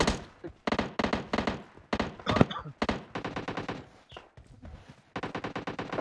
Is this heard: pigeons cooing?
no